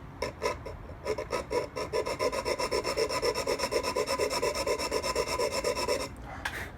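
A file rasps a notch into the blade of a Cold Steel Broken Skull knife in fast, even back-and-forth strokes, close and continuous for about six seconds before stopping.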